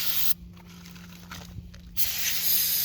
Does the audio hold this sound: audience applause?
no